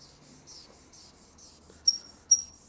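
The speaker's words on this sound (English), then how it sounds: "I don't know if I'm going to be able to wet sand all that out" Wet sanding deep scratches on Honda Civic car paint: a quick, steady run of faint, rhythmic rubbing strokes, close by, ending with two sharper squeaks.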